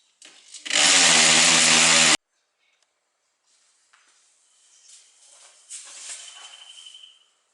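Power drill boring mounting holes for a RODI filter canister, one loud high-pitched whine of about a second and a half, then fainter scraping and handling noises.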